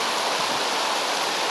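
Floodwater pours from two pipes into a swollen brook after heavy rain, a steady close rushing roar of water with no voices.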